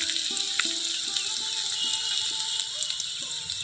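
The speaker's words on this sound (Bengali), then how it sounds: "আমি কিন্তু কড়াইতে তেল দিয়ে দিচ্ছি সর্ষে তেল দেবো আমি এখানে জিরে দিয়ে দিচ্ছি এখন দিয়ে দিচ্ছি কুচনো পেঁয়াজ দিয়ে দিচ্ছি গাজর" Chopped onion, carrot and cumin frying in mustard oil in a kadai, giving a steady bright sizzle and crackle throughout with a few faint clinks, and no talking.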